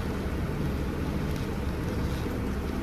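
A boat's engine runs in a continuous loud, broadband roar mixed with wind and water noise, holding steady without breaks and with no talking over it.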